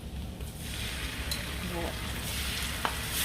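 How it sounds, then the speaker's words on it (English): Steady frying sizzle of a seafood boil butter sauce base with cilantro in a pan, a continuous hiss with a few soft stirring scrapes and one brief click near the end. "Need that thing sizzling up."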